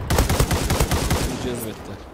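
Rapid close-range gunfire from an M1 Garand rifle in a first-person shooter game, a dense string of loud sharp shots over about a second and a half, then tailing into quieter game noise with a brief voice underneath.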